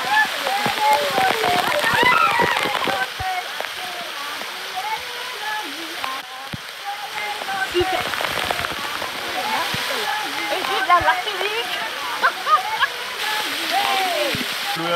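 Steady rushing water from a waterfall at Anse Couleuvre, Martinique, roars throughout, a dense broadband wash of falling water, with speech faintly threaded through it.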